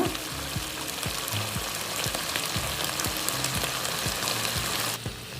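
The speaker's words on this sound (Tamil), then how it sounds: "இது நல்லா வதக்கி விடுங்க." Chicken being sautéed with ground pepper masala powder in a pan for Chettinad pepper chicken roast, giving steady close sizzling and frying with repeated scraping stir strokes, no talk.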